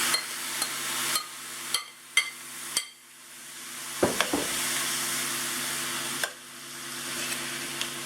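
Beef for Philly cheesesteak sliders hits a hot skillet, setting off a loud, steady sizzle that keeps going after a few earlier knocks and clatters of cookware.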